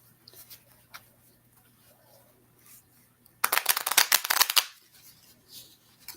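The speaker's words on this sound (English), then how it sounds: "I'm going to shuffle my cards." Tarot cards shuffled close by, a quiet stretch of faint rustling and taps giving way to a dense, rapid burst of riffling flutter lasting about a second and a half, then settling back to soft card handling.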